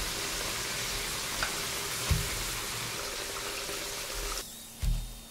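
Potatoes frying in oil in a pan for a chicken dish, a continuous close sizzle with a few brief stirring clunks and a shift in tone near the end.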